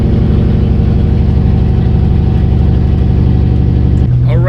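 A car engine idling steadily while warming up, a loud, continuous low rumble heard from close by, with a person's voice cutting in at the very end.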